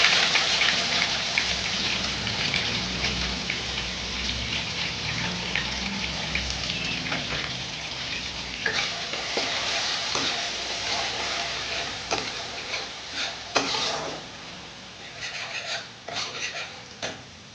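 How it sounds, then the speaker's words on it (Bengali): Onion paste frying in a pan for lemon pepper chicken, a steady dense sizzle and crackle throughout with scattered sharper pops near the end. "পেঁয়াজ বাটা দিয়ে দিলাম।"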